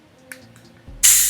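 A soda bottle for a feijoa vodka cocktail is cracked open with a faint click and then a sudden loud, sustained fizzing hiss of pouring soda close by.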